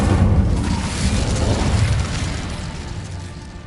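A casting of the Incendio fire spell in Hogwarts Legacy, a loud broad whooshing roar of flame that starts at full strength and slowly fades over a few seconds, heard alone.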